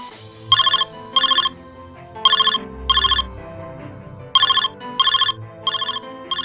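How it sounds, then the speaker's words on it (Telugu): A mobile phone rings with an incoming call, loud chiming bursts repeating in pairs with short gaps, over a soft musical background and no talk. "ఫోన్ చేస్తుంది మామ"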